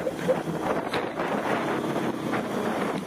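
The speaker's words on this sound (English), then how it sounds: "Fucking windy out here." Wind gusts outdoors at a muddy off-road spot, buffeting the microphone with a steady rushing roar for a few seconds, with no voices.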